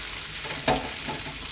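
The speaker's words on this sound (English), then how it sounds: "that sizzling is from the heat of the pan" Pork ribs sizzle in a hot pan after the heat is turned off, a steady, close, hissing crackle with a brief clatter of stirring partway through.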